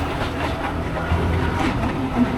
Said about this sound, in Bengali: ট্রেনও যাচ্ছে লোকাল